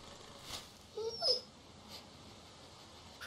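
A dog whimpers in the video game The Walking Dead, a few soft, faint whines in the middle over a quiet background.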